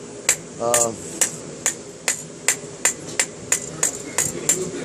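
Steady rhythmic hammer strikes ring out on a 99.9 fine silver bangle being hammer finished, about a dozen sharp metallic taps at an even pace, with a brief voice sound near the start.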